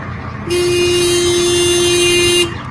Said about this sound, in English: And that's so funny that they honked the horn.